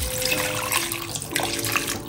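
Water runs steadily from a tap into a metal pot, a continuous splashing pour with a faint ringing resonance.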